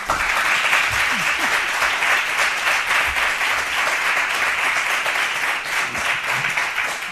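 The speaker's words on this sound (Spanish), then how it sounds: "un aplauso" A live podcast audience breaks into sustained applause, a dense, even wash of many hands clapping that holds steady throughout without letting up.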